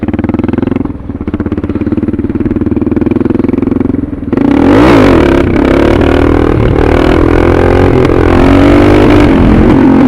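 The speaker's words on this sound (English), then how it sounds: "So I'll do a couple more clutch ups here" A Suzuki DR650 fitted with a Procycle jet kit idles with a rough, loud thump, then revs hard into a clutch-up. Engine roar and clatter stay close and loud to the end.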